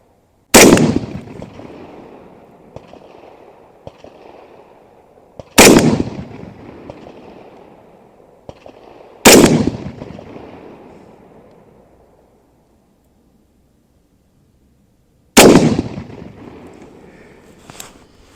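Single shots from an Aero Precision M5 rifle at an outdoor range, four loud, sharp reports spaced several seconds apart, each trailing off in a long rolling echo, with no talking.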